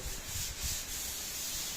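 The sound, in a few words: hand sanding wood with 220 grit sandpaper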